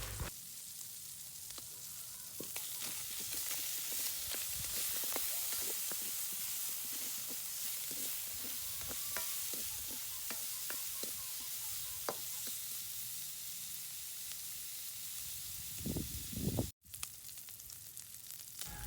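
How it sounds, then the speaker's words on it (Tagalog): Pork chop fries in a little oil over charcoal, a constant soft sizzle and hiss with scattered crackles and pops, close and steady throughout, rising briefly near the end with a sharp knock, no talking. "Ipapan fry lang natin ang ating pork chop ng mga ilang minuto at naglagay tayo ng kunting oil."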